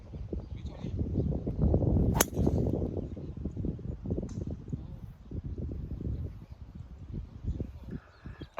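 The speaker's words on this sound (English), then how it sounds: "Alright, good tee shot here." A golf driver tee shot on a course lands as a single sharp, crisp crack, set against steady outdoor wind and rustling noise.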